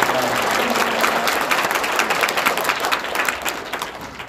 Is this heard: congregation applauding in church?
yes